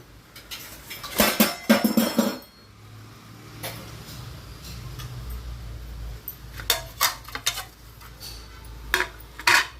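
Beetroot pudding is moved from one plate to another, with scattered clinks and scrapes of utensils against plates in bursts, close and fairly quiet.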